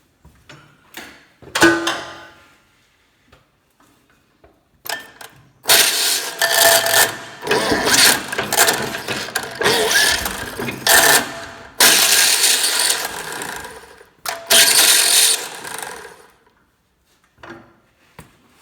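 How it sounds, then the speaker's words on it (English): A John Deere 60 tractor's faulty starter is engaged repeatedly, giving loud, harsh grinding and clattering bursts of a few seconds each, separated by short pauses, with no engine catching. "I'm going to get up on the tractor and step on the starter, and you can kind of see what's going on and why it doesn't want to work."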